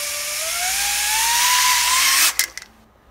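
A small drone's motors in turtle mode spin up with a loud, steady high whine that rises in pitch, then cut off abruptly with a few clattering bumps as it flips over.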